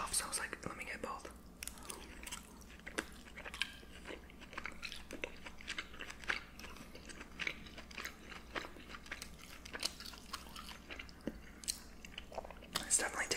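Sirloin steak with mushroom sauce is chewed and bitten close to the microphone, giving soft, wet, irregular crunches and mouth sounds at a quiet level, with faint whispering under them.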